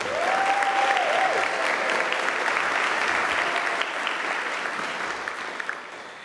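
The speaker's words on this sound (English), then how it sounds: "please stand for a quick round of applause" Sustained, dense applause fills a 2022 PA graduation ceremony as the room honors a scholarship award recipient, loud at first and slowly easing off toward the end.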